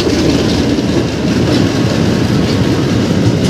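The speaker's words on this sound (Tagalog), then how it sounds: "at may patawid na tren ng PNR" A PNR passenger train heading to Tutuban crosses Ramon Magsaysay Boulevard, a loud, steady rumble of wheels and cars rolling past close by without letup.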